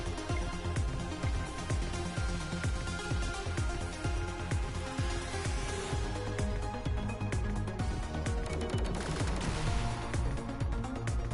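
Turret gunfire in the Velocity 2X video game, a dense continuous stream of rapid shots layered over game music and effects, loud and unbroken throughout.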